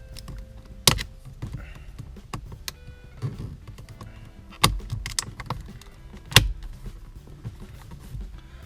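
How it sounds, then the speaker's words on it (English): Plastic dash trim piece snapping into place inside a Camaro SS, giving three sharp, loud clicks spaced a couple of seconds apart, with quieter handling rustles and taps in between. "Now all that's left to do is snap in the trim piece."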